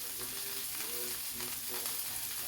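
Butter melts and sizzles in the hot pan beside a pan-seared NY strip steak, a steady, close, unbroken frying hiss with faint crackles.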